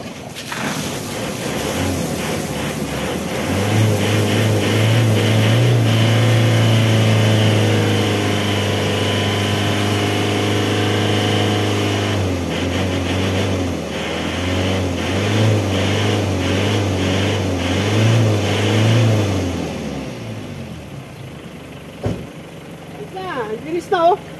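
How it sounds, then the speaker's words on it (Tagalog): An Isuzu Crosswind engine is restarted after its muffler pipe is cleaned and idles with a steady low drone, rising slightly in the middle, then cuts off near the end with some clattering. "i-start ko ulit itong makina after ko matanggal itong hose"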